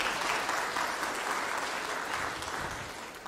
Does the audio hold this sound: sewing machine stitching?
no